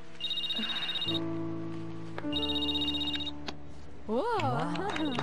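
An electronic phone ringtone plays in repeating bursts of tones, then a wavering melodic jingle follows, fairly clear with no speech.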